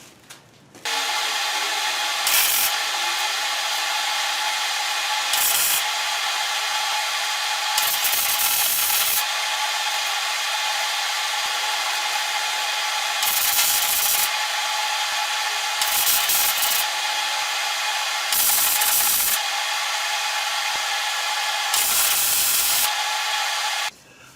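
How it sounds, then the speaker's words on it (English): Welding steel plate for a bench grinder stand built from a satellite dish: a steady crackling hiss in long bursts with short pauses between them, close and fairly loud, and no talking. "So I'm going to go ahead and weld that up."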